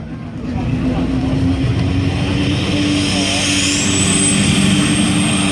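Heavy diesel engine of a semi truck revving steadily at a truck tractor pull, a loud sustained low rumble with rising whine, with voices heard faintly over it.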